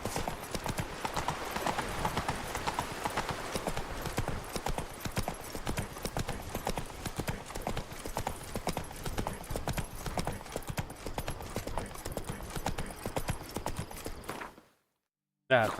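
Roach the horse's hooves clip-clop in a steady, continuous rhythm throughout The Witcher 3, loud and close, with game sounds layered beneath, before cutting to near silence at the very end.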